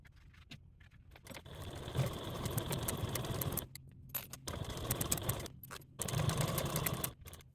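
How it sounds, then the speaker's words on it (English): A sewing machine top stitches a sling bag zipper panel about 1/8 inch from a folded edge, running in three steady bursts of rapid mechanical whirring broken by short pauses, close and fairly loud with no talk. "Take this back to your machine and you want to top stitch at a 1/8 seam allowance away from that folded edge."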